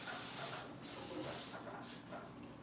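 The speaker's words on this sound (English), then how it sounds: "so let me spray this" Hissing bursts from a spray can, a few pulses close by, with a short pause between sprays.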